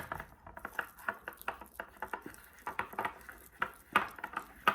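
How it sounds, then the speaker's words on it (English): A utensil scrapes and clinks against a glass jar in quick irregular strokes, close up, with thick sticky stirring sounds of sourdough starter between the taps. "I'm going to mix it really good."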